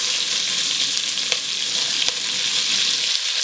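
Chopped onion frying with bacon in a pan, a steady close sizzle with a couple of sharp crackles and pops, no voices.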